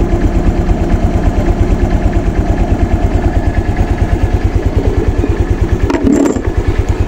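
Honda Click 125 V3 scooter idling with its idle speed raised, a steady close, loud putter with an even rhythmic pulse and some clatter, one brief clunk near the end.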